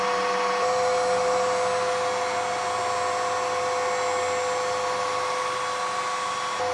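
A Bissell TurboClean 3548 wet dry vac runs on vacuum only over an indoor mat, a loud steady motor whine with a high tonal hum, continuous and close.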